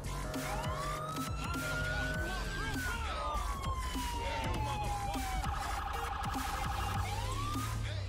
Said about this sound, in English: Anyway, the new siren.